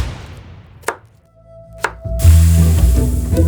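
Pig meat being chopped for Yucatan cochinita, two sharp, isolated cleaver thuds ringing out, then a denser burst of cutting and clatter, loud and close.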